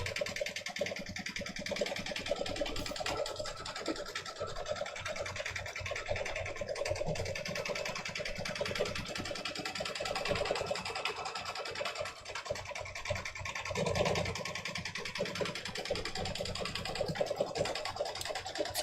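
An embroidery machine stitches a cross-hatching quilted background with matte cream thread, giving a continuous mechanical hum and rapid needle chatter that runs steadily throughout.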